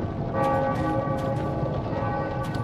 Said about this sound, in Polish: Słychać dzwony kościelne